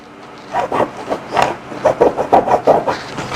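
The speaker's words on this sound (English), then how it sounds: "I'm going to go ahead and cut" Scissors cutting through fabric for a blouse sewing pattern, a string of soft close snipping and rubbing crunches in an uneven rhythm, with no talk.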